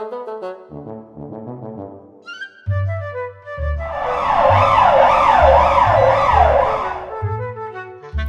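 A cartoon-style ambulance siren wails in a rising and falling pattern, loud and close, framed by bouncy children's music before and after.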